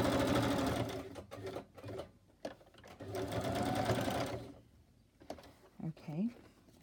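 A sewing machine stitches lace trim onto handmade paper tags and ephemera, whirring in a few close bursts with short gaps, while a person talks around it.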